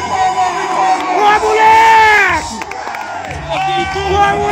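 A crowd at a rodeo-style bull event cheers and shouts loudly in a continuous roar, with an announcer's amplified voice calling over it the whole time.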